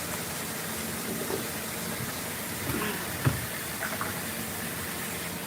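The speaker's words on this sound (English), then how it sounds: "Get that water nice and warm." Tap water runs steadily into a basin or tub at a cat grooming station, a continuous close hiss and splash with a few small knocks and no talk.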